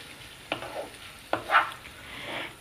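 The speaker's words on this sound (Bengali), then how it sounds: "এবার আমি এগুলো খুব ভালো করে মিশিয়ে নিচ্ছি।" Chicken mince being stirred with spices in a frying pan, a few scraping strokes and light sizzle, close and moderately quiet, no talking.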